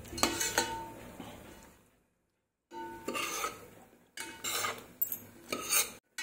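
Spiced vegetable balls are stirred and turned through masala in a pan, with scraping, clinking spoon strokes in short bursts separated by brief pauses, fairly soft and close.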